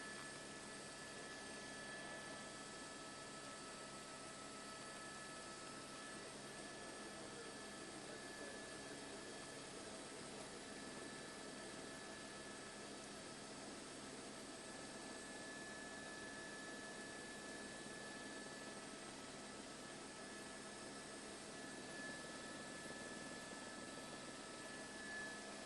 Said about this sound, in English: an LA County Sheriff's helicopter right over the LA River